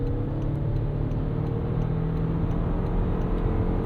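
A 2024 Toyota Grand Highlander's engine is held in gear in sport mode and revved hard toward 7,000 rpm, a loud, steady, strained whir filling the cabin with no talk.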